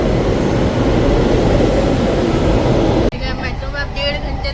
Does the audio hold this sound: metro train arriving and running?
yes